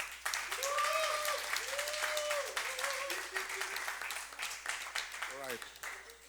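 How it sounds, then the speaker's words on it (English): Audience applause for two poker players at a heads-up final table, steady clapping throughout that slowly fades, with voices talking over it. "let's give these 2 warriors a round of applause"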